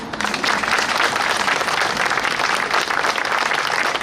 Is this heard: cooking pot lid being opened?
no